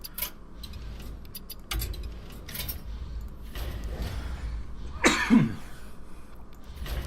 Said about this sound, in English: Coughing a bit too much.